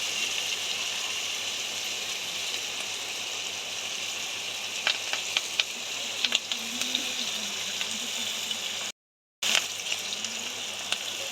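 Sliced onions, green chillies and curry leaves fry with a steady close sizzle in a pan, a few faint clicks of stirring scattered through, with a brief cut to silence near the end.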